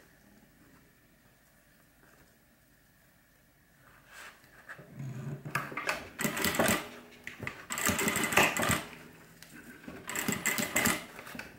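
A sewing machine stitches a half-inch seam on a cross-body bag, coming in after a quiet start as fast bursts of close, rattling stitching with short pauses between runs, with a brief voice at one point.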